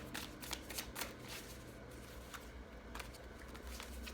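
Tarot cards being shuffled and drawn, giving a steady close riffling and flicking of card stock throughout, with no talk.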